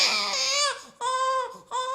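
A newborn baby cries in three short, high, wailing bursts separated by brief catches of breath, close and clear, used as a story sound effect.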